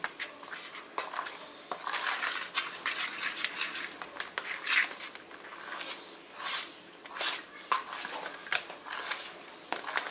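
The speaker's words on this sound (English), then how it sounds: "Scraping the sides of the bowl with the fork." A fork stirs and scrapes stiff homemade biscuit dough around a bowl, making repeated close, gritty scraping strokes in an irregular rhythm, fairly quiet and with no talking.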